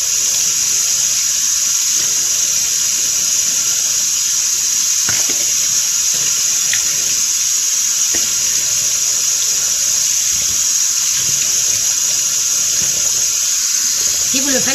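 Tap water runs steadily and loudly into a sink as it is mixed to lukewarm for rinsing the face, a constant close hiss with faint soft knocks beneath it.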